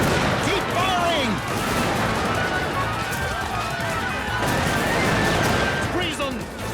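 Cartoon musket gunfire rattles through a battle scene, with scattered gunshots and bangs mixed into a dense, loud clamor of shouting voices throughout.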